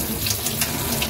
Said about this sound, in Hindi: गर्म गर्म पानी आ रहा है